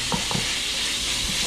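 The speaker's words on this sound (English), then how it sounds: "let's give it a good stir, good shake" Chicken curry ingredients are stirred in hot oil in a pan for coconut curry chicken, a steady close sizzle with a few soft scraping strokes of the spoon.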